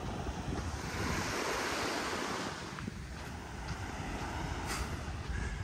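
Ocean surf washes onto the shore at Delnor-Wiggins Pass State Park after Hurricane Ian. The wave roar is continuous and fairly soft, with wind buffeting the microphone and no voices.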